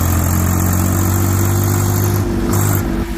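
A 2023 Swaraj 855 tractor with a 57 hp engine running, a loud, steady mechanical drone close by with a strong low hum, dipping briefly and returning.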